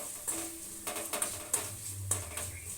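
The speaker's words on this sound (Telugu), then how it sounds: "ఇప్పుడు ఇందులో సరిపడా సాల్ట్ కొంచెం కారం అన్నీ చక్కగా ఇలా కలిపేసేయండి" Spoon scraping and clinking in a pan as chicken fry is stirred with salt and chili powder, with sharp metallic taps at irregular intervals over a low sizzle.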